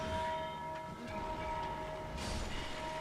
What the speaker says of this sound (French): Tu vois ce con là, il s'amuse à sonner des cloches.